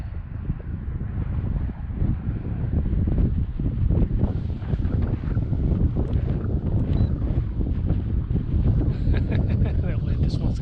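Gusty outdoor wind buffets the microphone in a loud, steady rumble while an electric-converted Sig Kadet Senior RC plane flies on a cold day.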